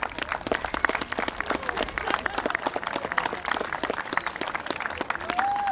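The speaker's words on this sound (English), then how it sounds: "So a round of applause for our entire executive committee" Outdoor crowd applause for an executive committee at a youth baseball opening day in Westwood, dense steady clapping from a large group lasting several seconds with scattered voices underneath.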